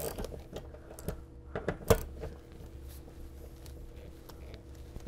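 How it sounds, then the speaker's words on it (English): A ratchet tightens a leg bolt on a TV wall mount with a few quiet clicking and metallic ticks, one sharper knock midway, faint and close against a low background hum. "All right, so I got three of the leg bolts in. Just tightening in the fourth"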